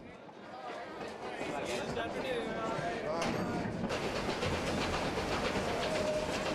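Steam train wagons rolling along rails beside a river, a steady rumbling clatter with rhythmic wheel clicks and occasional squeals, growing louder midway, under a narrator's voice.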